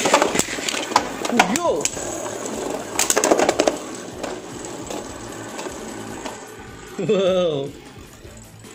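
Beyblade Burst spinning tops Storm Pegasus and Slash Ashura clash in a stadium, with scattered metallic clicks and scraping bursts under excited shouts and exclamations from players.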